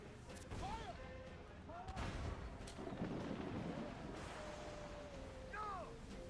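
Booming cannon blasts from a ship in Assassin's Creed IV: Black Flag, several heavy thuds rolling out under loud shouted voices and game music, with rumbling echoes between shots.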